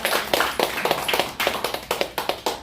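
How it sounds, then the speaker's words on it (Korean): Church congregation clapping during a revival service, about ten sharp, evenly paced claps that sound close and moderately loud, with no talking over them. "여러분 칭찬해줘야 되는데 박수 쳐주고"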